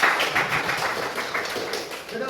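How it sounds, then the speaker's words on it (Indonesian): Primary school pupils in a fifth-grade classroom clap hands in the mosquito-clap game, a ragged series of claps close by with an adult voice talking over them. "Kalau Bapak bilang tepuk nyamuk, coba tepuk ya."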